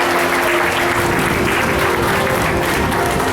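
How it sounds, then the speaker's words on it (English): Audience applause at a dolphin show at Gulfarium, a dense, steady clapping that fills the whole clip at close range with a faint crowd murmur beneath and no voices. "prepared to ask for a little bit of applause"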